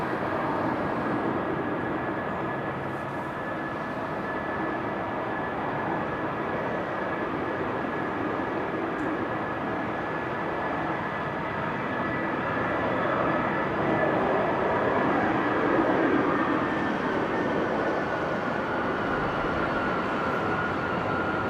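A Delta A330 airliner taxiing out at Amsterdam Schiphol Airport on a windy, showery day: a steady distant engine roar with a faint sustained whine that holds throughout and swells slightly toward the end.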